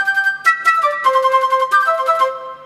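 A Yamaha keyboard voice with dual and harmony layers switched on plays a quick, bright melodic run of layered notes for uning-uningan, plucky and clear with no talking.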